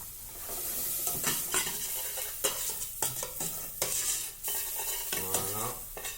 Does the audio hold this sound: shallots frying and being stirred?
yes